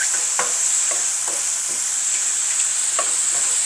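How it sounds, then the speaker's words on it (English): Mushrooms stirred in oil and roux in a pan for creamy French tarragon chicken, a steady sizzle with soft scraping strokes of the spoon repeating every half second or so, close and without talk. "I'm going to stir them one more time just to make sure all that oil is soaking into the mushrooms."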